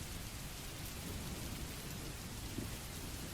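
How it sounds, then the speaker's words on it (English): Heavy rain falls as a dense, even hiss, steady and fairly faint, with a low rumble of thunder running beneath it and no voices. "Outside, the rain began to fall harder."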